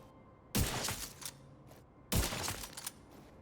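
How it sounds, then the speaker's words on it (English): Two sharp, loud sniper rifle shots from the Nemesis in the video game The Division 2, spaced about a second and a half apart, each a crisp crack followed by a brief echoing tail. "So here's what the Nemesis can do. First shot."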